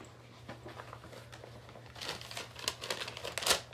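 Loose school papers, including class worksheets, crinkled and shuffled while a backpack is searched, giving scattered soft rustles that build into louder crumpling bursts toward the end, close and alone with no talking.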